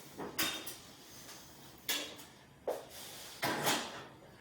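Several close thuds and clunks of a heavy oven door, a sharp bang followed by softer knocks as it shuts.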